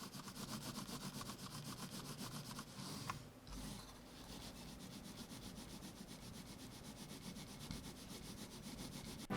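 A Razer Basilisk V3 mouse glides on a mouse pad: a light, continuous rubbing and gliding scrape, steady and close, with a brief louder swipe partway through.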